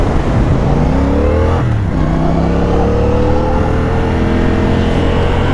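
A CFMOTO 450 CL-C motorcycle accelerates hard, loud and close, its engine note climbing through the gears with a brief dip at a shift before rising again in a continuous strong roar.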